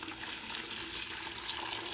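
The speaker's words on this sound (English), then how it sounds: "some boiling hot water that I am going to just pour in there now" Boiling hot water pours into a mead mixture with a black tea bag, a soft steady splashing trickle heard close and fairly quiet, with no voices.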